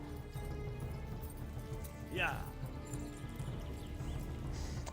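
A horse's hooves pound along at a gallop in the video game Kingdom Come: Deliverance, a dense rumbling under a voice, with a brief whinny-like cry partway through.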